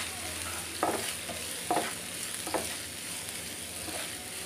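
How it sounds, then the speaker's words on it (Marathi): Chopped onion sautés in a pan with a steady, soft sizzle. A few brief scraping stirs of a spoon recur at intervals, close but fairly quiet, and no one speaks. "बारीक चिरलेला कांदा घातलेला आहे आपण आणि हा व्यवस्थित सॉटे करून घेऊया आपण।"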